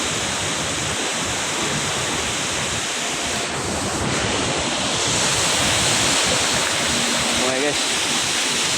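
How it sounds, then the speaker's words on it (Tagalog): Rushing flood water pours over falls in a loud, continuous roar, close by, with wind buffeting the microphone and voices talking over it. "Ito yung baha guys."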